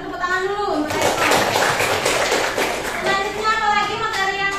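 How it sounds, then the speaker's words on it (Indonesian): A classroom of students claps for a classmate, a dense burst of many hands lasting several seconds with children's voices mixed in, fairly close and loud. "Kita beri tepuk tangan dulu untuk Retno."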